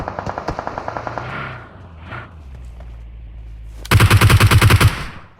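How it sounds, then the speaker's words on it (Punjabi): Automatic gunfire in the battle royale game PUBG, with a rapid rattling burst at the start, a quieter stretch and then a loud, close burst of about a dozen shots near the end. "ਪੀਕ ਕਰਕੇ ਬਸ ਗੋਲੀਆਂ ਚਲਾਤੀਆਂ"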